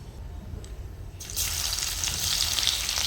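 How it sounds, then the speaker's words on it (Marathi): Mustard seeds, cumin and crushed garlic hit hot oil for chole, a quiet hiss that jumps into a loud, bright, steady sizzle, close up and without talk. "फक्त तेल गरम करायला ठेवायचं आणि नंतर त्यामध्ये मोहरी आणि जिरे आणि थोडा फक्त मी लसूण ठेचून टाकलेला आहे।"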